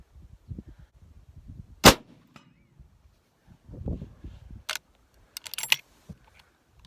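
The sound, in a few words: rifle shot ringing a steel target plate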